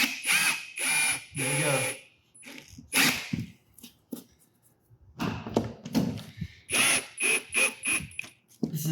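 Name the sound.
driving screws into plywood subfloor patch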